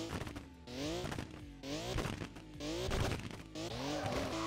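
A drift car's engine roars and revs in the Overdrift Festival video game, rising and falling in repeated pitch sweeps with tire squeal, loud and continuous over about four and a half seconds with no talk.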